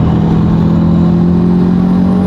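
Fully built Subaru STI engine held at high revs on a dyno: a loud, steady close drone with a strong constant tone through the whole short stretch, with no talking.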